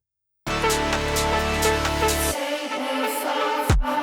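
An electronic track plays loud and full, a steady sustained chordal mix with deep bass that cuts out midway, leaving brighter upper layers, then a quick downward sweep near the end.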